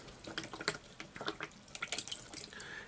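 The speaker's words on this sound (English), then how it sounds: "I've got to clean the brush well, as I mentioned." A watercolour paintbrush sloshes and swishes in a pot of rinse water, light splashes and drips in quick irregular bursts, close and fairly quiet, with no talking.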